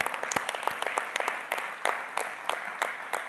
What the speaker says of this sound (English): Let's give a special, an extra applause